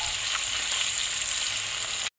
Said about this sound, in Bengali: সেই দুটো মাছকেও আমি বাকি তেলে ভেজে নিচ্ছি।